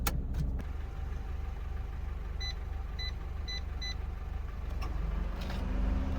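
A car idles steadily while being parked in rural Australia, a low engine rumble throughout with a few short electronic beeps in the middle and some brief clunks at the start and end.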